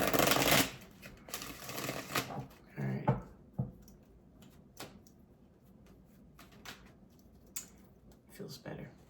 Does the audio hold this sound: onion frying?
no